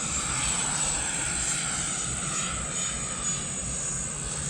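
An E-flite F-16 RC jet with a 5280 motor flying, giving a continuous whooshing ducted-fan roar with a high whine that holds steady at moderate distance without breaks.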